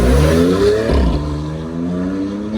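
A BMW M2 CS race car launches hard on a track day circuit, its engine a loud, close roar that swells as revs climb, briefly drops with a gear change, then settles into a steady rising pull.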